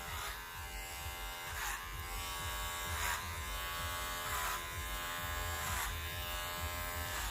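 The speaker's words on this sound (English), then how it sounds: "we're just going to clipper it off. Like I say, John doesn't mind going shorter. We've gone in with a number 4" Electric hair clippers fitted with a number 4 guard buzz steadily while cutting a man's hair, a close continuous hum with periodic swells as passes are made.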